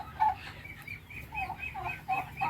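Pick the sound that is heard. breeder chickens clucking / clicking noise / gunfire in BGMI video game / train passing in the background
breeder chickens clucking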